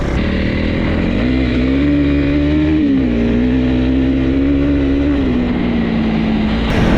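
A Honda CRF300L trail motorcycle rides off-road on an enduro ride, its single-cylinder engine droning loud and close with steady revs, easing off briefly and then pulling again.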